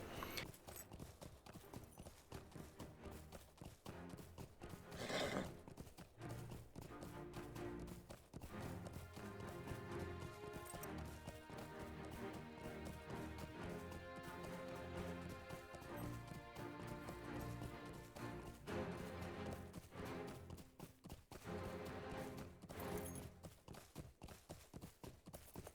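Horses' hooves riding through meadows and riverlands in the video game Lord of the Rings Online, a rapid, continuous clip-clop of several galloping mounts, steady and prominent throughout with no speech.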